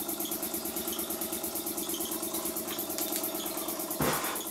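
A model steam engine with a very small boiler chugs steadily with a fast, regular mechanical beat and light rattling, with one sharper clatter near the end.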